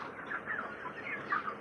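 Broiler chickens around 37 days old fill a poultry farm shed with a continuous chorus of clucks and calls, a steady crowded murmur with a few brighter calls standing out, and no talking.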